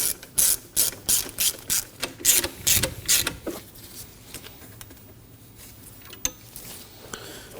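A ratchet clicks in quick bursts while turning the belt tensioner on a 2003-2006 Subaru Baja engine, a dozen or so sharp close strokes early, then thinning to occasional single clicks over a quiet background.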